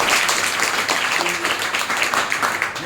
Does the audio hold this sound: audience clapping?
yes